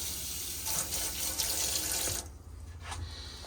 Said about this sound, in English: This is showing your water system's working. So you've got hot water there,